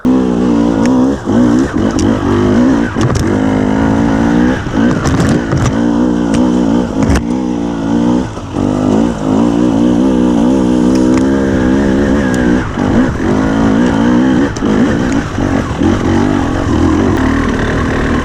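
A 2021 KTM 300 EXC TPI two-stroke dirt bike fitted with an RK TEK head, ridden hard: a loud, close engine that revs up and down repeatedly, with throttle blips and brief drops between pulls.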